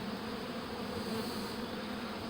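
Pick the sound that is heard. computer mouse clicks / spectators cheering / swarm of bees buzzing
swarm of bees buzzing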